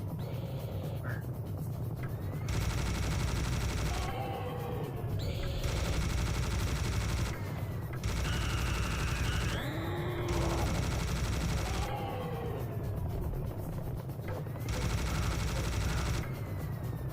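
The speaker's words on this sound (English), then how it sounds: "Just switch it up to my minigun now." A video game minigun fires in several sustained bursts of rapid gunfire lasting about two seconds each, separated by short pauses, loud and dense against a quieter background.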